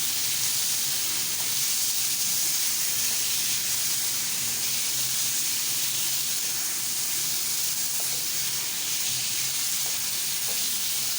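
Chicken sizzles steadily in a hot pan for a club sandwich, a constant bright frying hiss that holds at an even level throughout with no talking.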